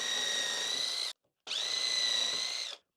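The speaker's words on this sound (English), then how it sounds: "I'm going to need the right angle drill again just to be able to get in there" Right angle drill driving 3/4 inch screws into wood in two steady whirring bursts, about a second each, separated by a short pause, close and alone.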